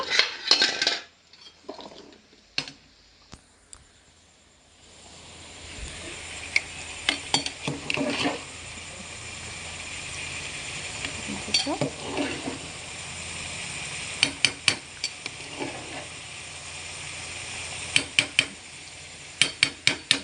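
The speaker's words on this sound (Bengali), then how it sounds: "ওদিকে এই সবজিগুলো দিয়েছি ভাতে, সবজিগুলো একটু নেড়ে নেব।" Vegetables cooking in a pot of rice are stirred with a metal utensil, a run of scraping and clinking against the pot over a steady sizzling hiss, with repeated sharp taps at intervals.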